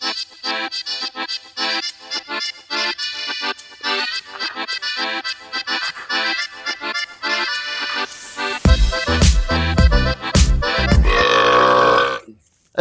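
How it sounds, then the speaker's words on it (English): A long, loud, deliberate burp show, a rapid series of croaking belches that grows into deep, heavy eructations near the end before stopping abruptly. "Cover your mouth when you are burping"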